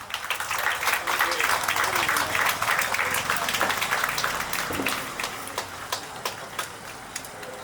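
A crowd claps at a bank inauguration ceremony, with thick, steady applause that thins out into scattered individual claps toward the end.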